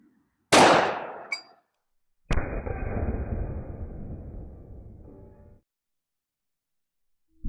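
A Chiappa Rhino 30DS revolver fires a single .357 Magnum round loaded with H110 powder, a sharp loud crack followed moments later by a long ringing hit on a steel plate that slowly decays, with silence between.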